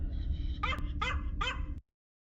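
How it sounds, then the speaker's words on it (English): A dog in the video game Dark Souls 3 gives three sharp, close barks in quick succession over a low background rumble, before everything cuts to silence. "Another dog."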